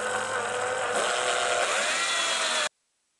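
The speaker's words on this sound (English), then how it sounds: "we're going to drill ourselves a small hole at the base" A power drill boring a small hole through the tubing of a tractor roof, a loud, steady high-pitched whine with grinding that runs for a couple of seconds and then stops abruptly.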